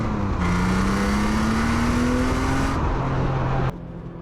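A US-spec BMW E36 M3 with 240 horsepower pulls away and accelerates, its engine note rising steadily from inside the car, loud and continuous, then easing off abruptly near the end.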